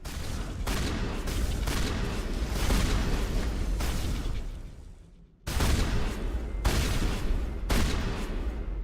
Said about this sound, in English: your shotguns are remarkably effective, Cerberus